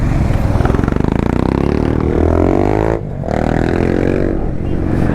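Loud, close motorcycle exhaust with a rapid pulsing throb, revving and rising in pitch, briefly dipping around the middle before roaring on as the bike keeps running.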